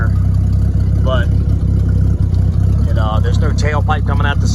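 A 1977 Ford F150 with the 300 engine running its exhaust, a steady low idle rumble throughout while someone talks over it.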